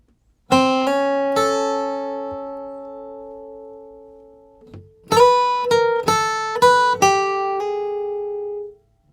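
A clean guitar plays a short country blues lead phrase in E: a few plucked notes ring out and sustain, then a quicker run of picked notes, played alone and close.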